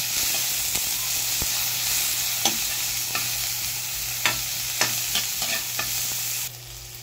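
Chopped garlic and onion sizzle steadily in hot frying oil, a loud, close hiss broken by occasional stirring scrapes and clicks, with no talking.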